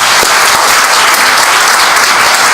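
Loud, continuous applause from a crowd, dense clapping sustained evenly throughout.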